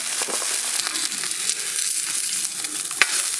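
Steak searing on a Camp Chef grill just after being flipped, giving a steady, loud sizzle and crackle with sharp pops, one stronger snap near the end.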